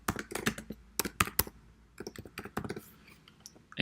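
Keys clatter on a computer keyboard as a name is typed, with quick bursts of close, crisp clicks separated by short pauses and no talking.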